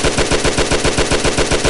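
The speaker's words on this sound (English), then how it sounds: "Sten gun Mark II, specifically. Side charging, side feeding magazine. Very interesting British gun. British submachine gun." A British Sten gun Mark II submachine gun fires in a VR video game as one sustained automatic burst of evenly spaced rapid shots, loud and close, with no talk.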